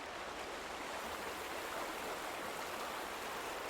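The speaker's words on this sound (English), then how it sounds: "Do you just lower the water flow?" Steady rushing water flows in The Vanishing of Ethan Carter, a constant broadband stream-like wash that stays even and fairly faint from start to finish.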